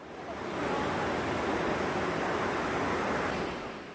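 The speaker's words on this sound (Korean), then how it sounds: "오른쪽으로 이어지는 한탄강의 물소리도 좋았습니다." Broad, steady rushing of the Hantan River, even and unbroken, swelling in and fading out over a few seconds with no voices.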